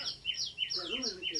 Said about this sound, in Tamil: ஒரு குருவி கூடு கட்டி முட்டை விட்டுருக்கு.